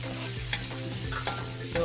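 Garlic and onion sauté in a hot pan while being stirred, a steady close sizzle broken by several scraping stir strokes, for ginataang langka with shrimp.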